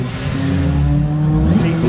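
A Honda FD2 Civic Type R in championship white, strapped to a dyno at a Honda meet, holds a loud, sustained engine rev close by, with steady harmonic tones rising slightly through the whole stretch.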